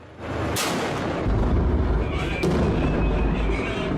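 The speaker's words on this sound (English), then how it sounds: "These are Syrian government tanks in Aleppo." Syrian government tanks firing in Aleppo during the civil war: heavy booming blasts with a sustained, rolling rumble and two sharp reports, loud and dense throughout.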